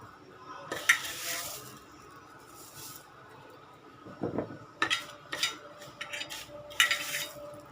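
Quiet pan sizzle of moringa leaves sautéing, with scattered stirring scrapes and clinks of a utensil against the pan, in short irregular bursts.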